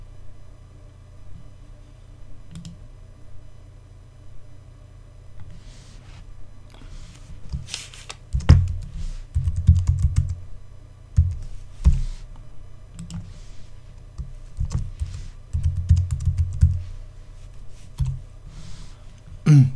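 Computer keyboard being typed on while installing WordPress on a web host, heard as sparse bursts of close, sharp key clicks over a quiet background hum.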